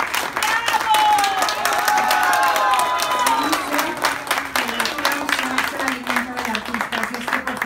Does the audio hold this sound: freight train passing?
no